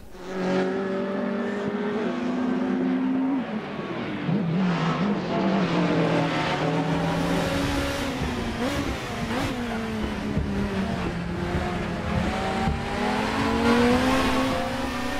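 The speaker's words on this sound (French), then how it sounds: "ça patine beaucoup, mais on parvient à garder la voiture." A race car in a racing video game at Oulton Park with its engine revving hard and its tires slipping for grip, a loud continuous roar rising and falling with gear changes throughout.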